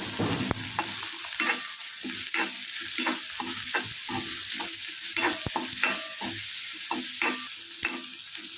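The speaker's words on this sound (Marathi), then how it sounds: "कांदा थोडंसं ब्राऊन कलरचं होईपर्यंत आपण त्याला थोडंसं मिश्रण करत राहणार आहोत. तोपर्यंत त्याला फ्राय करत राहायचं आहे." Onions fry in a pan for homemade fried noodles and are stirred until they brown. A constant close sizzle runs under regular scrapes and taps of the spoon against the pan.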